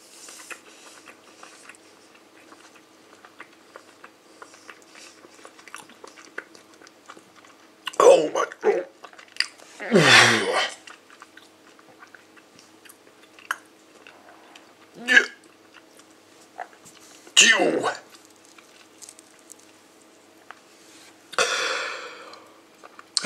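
A bite of extra-sour Fini Roller watermelon candy is chewed close to the microphone, with a few loud, moist crunching bursts spaced several seconds apart and faint sniffs in between.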